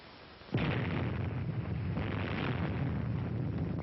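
A nuclear test blast from Operation Crossroads at Bikini Atoll erupts in a sudden loud boom, then rolls on as a sustained, dense roar without fading, with no voices.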